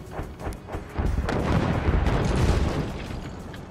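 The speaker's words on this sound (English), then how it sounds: "Looks like Dennis ready to fire another volley." A volley of missile launchers in the Forts strategy game thunders out as a rolling series of booming launches and impacts, starting with a few spaced thuds and then swelling into a dense, sustained rumble.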